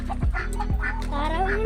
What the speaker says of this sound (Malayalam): താറാക്കൂട്ടങ്ങൾ.